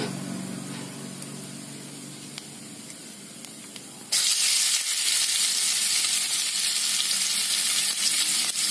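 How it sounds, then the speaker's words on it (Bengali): Onions hit hot oil tempered with cumin seeds halfway through and break into a loud, steady frying sizzle and hiss that continues close up to the end, with no talking. "তো পেঁয়াজগুলো একটু লাল লাল হয়ে ভাজা হতে থাক"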